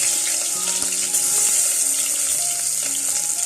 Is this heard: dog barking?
no